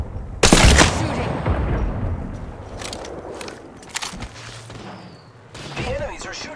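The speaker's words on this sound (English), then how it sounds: "The enemies are shooting at me." Enemy gunfire in a video game, bursts of shots crackling over a continuous busy game soundscape, with a sharp loud burst near the start and further volleys later.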